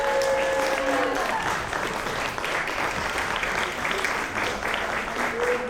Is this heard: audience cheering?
yes